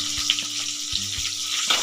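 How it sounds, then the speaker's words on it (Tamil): Curry leaves and cumin seeds fry in hot oil in a pan, giving a loud continuous close sizzle with a faint low hum beneath and no voices. "கருவேப்பிலை நல்லா பொரிஞ்சிருச்சு"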